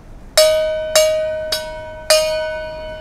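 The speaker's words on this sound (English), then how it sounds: "We have to hit the gong." A small gong beside a coffee vending wall in Kuala Lumpur, Malaysia, is struck four times at an even pace, each bright metallic ring sounding close and clear before fading.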